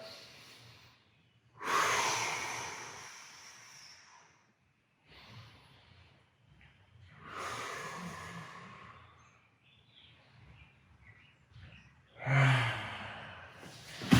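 Slow deep breaths during a stretching routine for runners, with several loud breathy inhales and exhales spaced a few seconds apart and quiet pauses between them.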